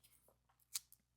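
Scissors snip through a paper sewing pattern, giving a couple of quick, faint, close-up cuts with light paper rustle in a quiet room.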